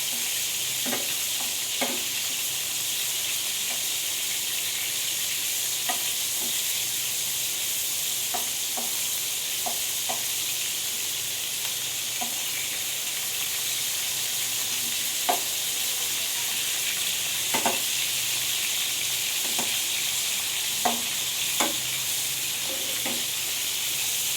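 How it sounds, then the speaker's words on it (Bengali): Chicken pieces fry in a pan over medium heat, a steady sizzle running throughout while scattered sharp clinks and scrapes mark the pieces being turned; no talking. "এরকমভাবে আমি উল্টে পাল্টে হালকা করে মাংসগুলো ভেজে নিচ্ছি।"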